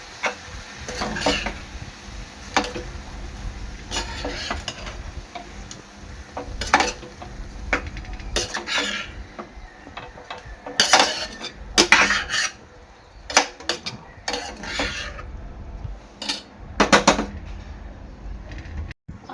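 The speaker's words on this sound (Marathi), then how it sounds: "आता ना चांगला मिक्स करून घ्यायचा आहे" Masale bhat being stirred in a pressure cooker: a spoon scrapes and knocks against the metal pot in irregular bursts of clinks and rasps, close and fairly loud, with no talking.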